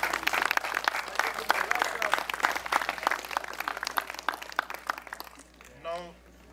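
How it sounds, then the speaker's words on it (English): Audience applause at a Volcano Half Marathon event on Montserrat: dense clapping fills most of the stretch, fading toward the end as a voice begins speaking. "I think for that we should give them a huge round of applause"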